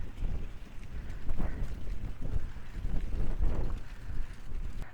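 Very strong wind blowing through an open field, loud continuous roaring gusts buffeting the microphone, with leaves rustling about close by and no one speaking.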